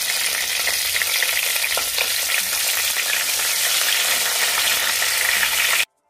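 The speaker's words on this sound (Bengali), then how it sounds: "এখন আমি পরবর্তী বেগুনগুলো এতে দিয়ে দেব, আর একই রকমভাবে আমি ভেজে নেব।" Brinjal slices fry in hot oil in a wok, giving a steady, loud, dense sizzle that runs unbroken and close up before cutting off abruptly near the end.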